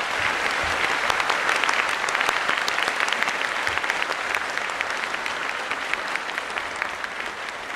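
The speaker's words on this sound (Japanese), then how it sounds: "皆様、今一度大きな拍手をお願いします。" Large crowd applauding the Fuji School military band at the Komakado garrison 63rd anniversary ceremony, a dense, steady wash of many hands clapping that holds strong for the whole stretch.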